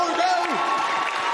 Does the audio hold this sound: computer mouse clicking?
no